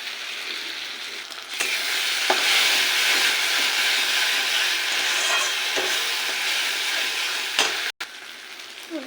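Ground pointed gourd paste frying with browned onion in a pan, an intense continuous sizzle that flares up suddenly after a quieter start and holds loud, with a few stirring knocks and a brief cut near the end.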